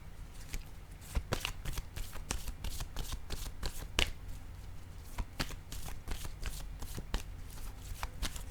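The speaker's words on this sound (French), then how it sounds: "Je vais déposer une carte ici." Tarot-style playing cards shuffled and laid down for a reading, a long run of quick crisp riffling flicks and soft slaps, close and fairly quiet, with no one talking.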